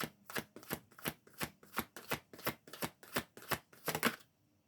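Tarot cards shuffled by hand, a run of about a dozen crisp riffling bursts in a steady rhythm, close and clear, ending in quiet.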